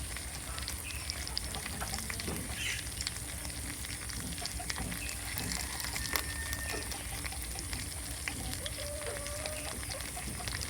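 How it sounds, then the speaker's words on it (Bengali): Spice-coated fish fries in a pan with a steady, soft crackling sizzle throughout, fairly quiet with a few faint pops and clicks over a low background hum. "এবার আস্তে আস্তে মাছটা সুন্দর করে ভেজে নেবো"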